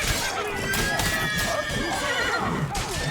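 Horses in The Witcher 3: Blood and Wine neigh and whinny loudly during a bandit fight, with hooves clip-clopping and combat noise underneath.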